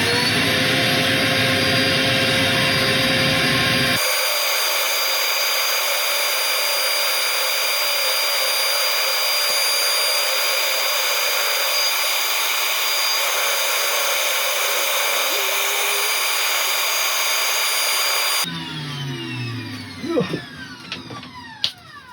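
Willow wood is sanded on a woodturning lathe: a loud, steady, broadband motor whine and hiss runs throughout, with the sound changing partway through and faint clicks and knocks near the end.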